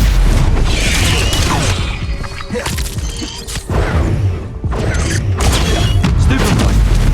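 Stupefy spell blasts in the video game Hogwarts Legacy, loud booming impacts and crashes in a dense, continuous combat mix with brief dips between hits.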